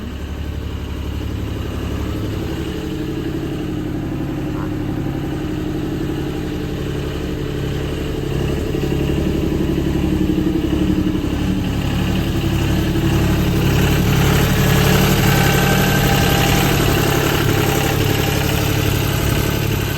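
A three-cylinder engine on a JLG 450AJ boom lift idles steadily and loudly at close range, a constant low throbbing hum that rises slightly in intensity partway through, with no voices.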